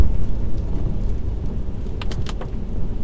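Steady rain on a BMW 135i while driving, a dense, even hiss and patter over low road rumble, with a few brief sharper splashes or gusts near the end.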